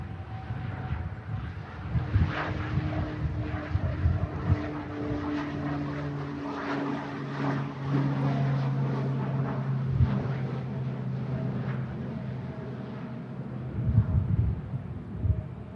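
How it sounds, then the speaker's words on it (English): A Pilatus propeller aircraft takes off from Manchester Airport in blustery conditions, a steady distant engine drone rising and holding for the whole stretch, heard alone without talk. "Here's the Pilatus on the way, as I say, to Belfast"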